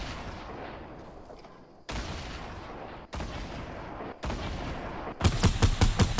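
Gunfire and explosions in the video game Fortnite, a run of loud booming blasts separated by sharp cut-offs, ending in a rapid burst of repeated shots.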